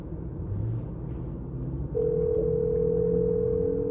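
A telephone call's ringing tone sounds as a steady electronic tone, moderately loud, over low background rumble and faint room noise, with no talking.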